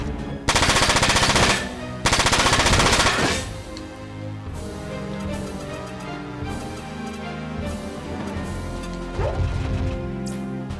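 Heavy automatic gunfire from the video game Front Mission 4 tears through in two loud, dense bursts, then gives way to softer in-game mechanical noise and music.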